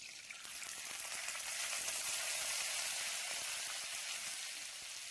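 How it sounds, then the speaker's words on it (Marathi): Mustard seeds, cumin and urad dal crackle in hot oil as a tempering for upma: a continuous hissing sizzle that swells slightly then eases, heard close up with no talking. "मोहरी तडकली की जिरे, उडीद डाळ आणि चिमूटभर हिंग घालूया।"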